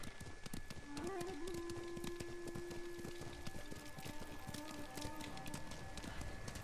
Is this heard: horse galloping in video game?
yes